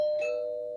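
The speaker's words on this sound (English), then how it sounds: "locate your doorbell chime and make sure it works" A doorbell chime rings out with a single clear, sustained tone that slowly decays, with no one talking over it.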